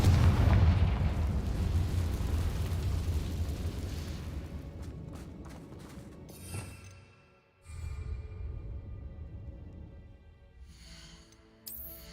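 A Confringo fire spell explodes in Hogwarts Legacy, giving a loud, booming blast with a rumbling low tail that fades out, then a second, lighter burst follows a few seconds later, with no talking.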